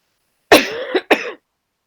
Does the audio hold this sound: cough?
yes